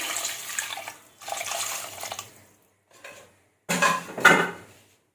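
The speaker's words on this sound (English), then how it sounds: "Add a little bit of water." Water splashes into a cooking pot of smoked beef with sesame and bitter eggplant in several short pours, separated by pauses, with a faint clink of cookware.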